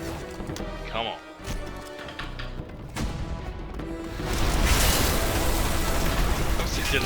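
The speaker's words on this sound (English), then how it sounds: "That was a delayed explosion." A delayed explosion in the game Red Faction Guerrilla erupts around the four-second mark into a loud, sustained roar of rumbling debris that fills out the rest of the clip, following earlier clatter and game noise.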